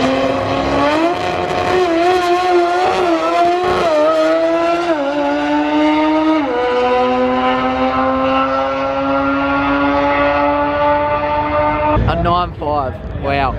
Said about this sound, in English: I don't know if you guys can understand how loud this green car is.